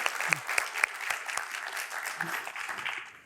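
Audience applause at a panel discussion on FSHD patient advocacy, a short burst of moderate clapping from a room of listeners, fairly close and steady.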